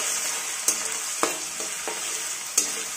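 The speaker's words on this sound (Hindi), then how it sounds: "सबसे पहले हम आलू को थोड़ा सा भून लेंगे" Potatoes frying in hot oil in a pan for an aloo pasta breakfast, a steady bright sizzle with several scraping stirs of a spatula punctuating it, close up and without talk.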